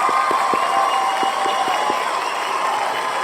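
An audience at a speaking event breaks into applause and cheering, continuous close clapping with sharp individual claps standing out, steady and fairly loud throughout.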